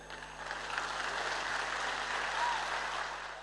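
Audience applause fills a stage event for a Modicare gathering in India: a steady, dense wash of clapping that holds at an even level throughout, with no clear voice above it.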